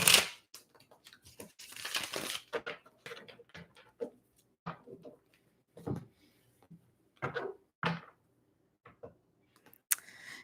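Tarot cards being shuffled during a reading, giving a series of short, crisp riffling and tapping bursts with brief pauses between them, close and moderately loud, with no talking.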